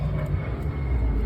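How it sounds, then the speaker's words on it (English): An airplane flying overhead outdoors near a garden of potted cactus and cuttings, a loud, steady low roar filling the short stretch without talking. "Pardon the plane."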